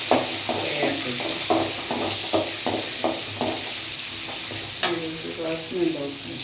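Green chilies frying in a pan for poha, a loud close sizzle with a quick run of rhythmic spatula scrapes and taps, followed by a few more scattered strokes.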